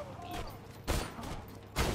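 Slow-bullet Hyperion gun firing in Borderlands 2, two loud broadband shots about a second apart over low game ambience, with a player voice talking between them.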